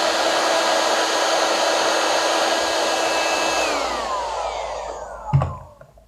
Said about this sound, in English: Bring in the heat gun, switch it on, and we'll just